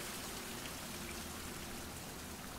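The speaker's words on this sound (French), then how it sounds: "Je suis dehors, il pleut," Steady rain pours outdoors in a video game, a dense even hiss of drops with no breaks, moderately loud and alone with no voices.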